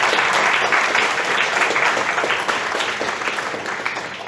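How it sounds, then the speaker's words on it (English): An audience at a tech talk at a programming expo applauds loudly and steadily for a few seconds, the clapping fading slightly toward the end with no talk over it. "Is that worth an applause?"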